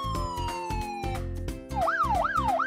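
A SWAT vehicle siren sweeps down in a long wail, then switches to a rapid yelping warble, loud and close, with music underneath.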